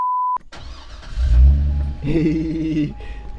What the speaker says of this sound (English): finna start up his car